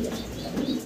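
Modena pigeons coo at a pigeon farm in one short, low, throaty burst heard close and alone.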